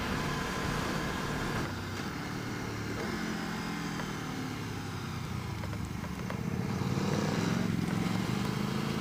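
A 2019 Aprilia Tuono V4 Factory motorcycle with an 1190 engine drones steadily at speed, a continuous engine note blended with wind rush that swells slightly toward the end.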